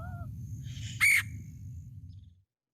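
A red-headed woodpecker gives a single short, harsh screaming call, sharp and prominent, over a low rumbling background that fades out near the end.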